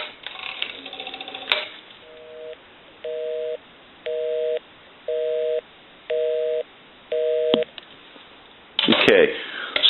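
A repaired South American rotary telephone plays a busy signal: six evenly spaced beeps of steady tone, each about half a second, then a clattering handset noise at the end; a brief voice and clicks come before.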